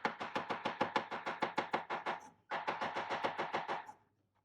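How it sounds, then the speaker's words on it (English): A cleaver chops garlic roughly on a board in quick, even, close strikes, two runs of about a dozen and a half each with a brief pause between, no talk. "You crush a bit the garlic, then you just chop it."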